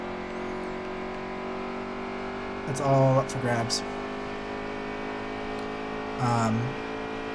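Race car engines in the NASCAR Heat 3 racing game at Atlanta, a steady droning hum underneath with two short rising revs, while someone talks over it.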